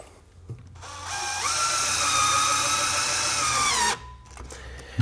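A power drill drives a screw into a shutter frame on a bi-fold track system, whining steadily at full speed for about three seconds after a brief start, then stopping abruptly, loud and close with no talking.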